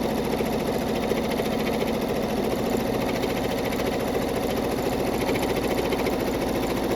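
A Brother NQ3550W embroidery machine stitching a lace heart design, a fast steady mechanical whirring and clatter close up, continuous and without pause or talk.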